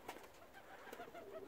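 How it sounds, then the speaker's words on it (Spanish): Pigeons cooing softly at a loft as a female is released, faint, low repeated coos with slight rustling, distant and quiet, no talk. "Mira, paloma."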